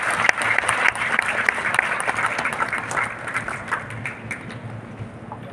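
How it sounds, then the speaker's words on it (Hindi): Loud, sustained applause from a large audience at an award ceremony honoring district magistrates at Gyan Bhawan, Patna, during the 2023 Medha Diwas event, with dense clapping that gradually thins toward the end. "जोरदार ताली"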